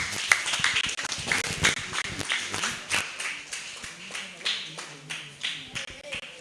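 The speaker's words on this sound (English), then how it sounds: "Give them a round of applause" Sparse audience clapping at a township film festival in Ekurhuleni, individual claps settling into a slow rhythmic beat with a faint voice in the background.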